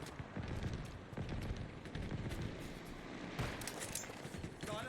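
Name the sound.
Wasp aircraft gunfire attacking base, Halo Infinite video game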